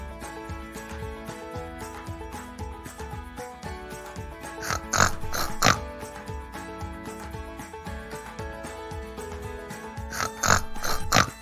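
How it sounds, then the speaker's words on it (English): Pig grunts and oinks in a farm setting, several short snorting calls scattered over a busy background, a few louder bursts standing out near the middle and end. "A pig goes, oink, oink."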